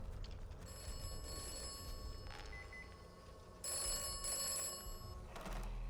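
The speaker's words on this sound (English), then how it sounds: "Probably gonna get a phone call" An old-style telephone bell rings in two bursts in the video game Atomfall, a metallic trill that is moderately loud over a low ambient hum, with no speech.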